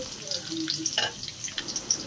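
Onions frying with cinnamon and bay leaves until brown, giving a close, moderate sizzle with small crackles and a few light stirring sounds.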